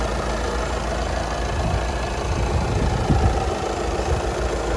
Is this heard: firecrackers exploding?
no